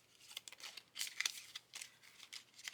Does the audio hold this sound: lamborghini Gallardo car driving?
no